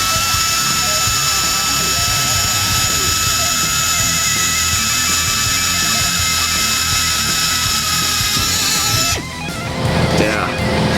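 A cheap air drill bores into mild steel lubricated with cutting oil, a loud, steady high-pitched pneumatic whine running unbroken for about nine seconds before cutting off, followed by lower rattling handling noise.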